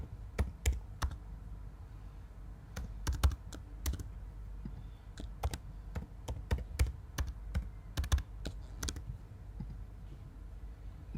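Keys clicking on a computer keyboard while a password is typed in, in irregular bursts of close, crisp taps over a low room hum, with no talking.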